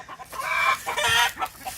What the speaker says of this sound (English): let's go talk about the chickens